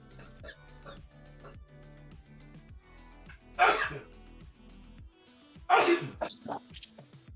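Two sharp sneezes a couple of seconds apart cut through a low background of voices and steady tones, each burst loud and sudden.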